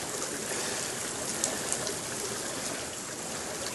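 A waterfall in a frozen winter landscape gives a steady, dense rushing roar that holds constant throughout, with no voices over it.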